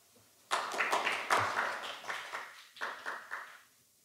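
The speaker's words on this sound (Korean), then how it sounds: "황 이사님을 박수로 환영해 주시기 바랍니다" After a quiet moment, a small conference audience breaks into clapping to welcome a presenter, a brief burst of close applause that fades, then a few scattered claps trail off.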